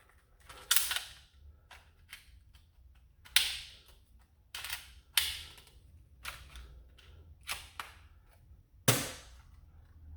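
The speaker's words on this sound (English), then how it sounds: "I want to get this to fire at least once." A toy Glock pistol gives a series of sharp, close mechanical clicks and snaps, about eight spaced at irregular intervals, as its mechanism cycles without firing, with no talk over it.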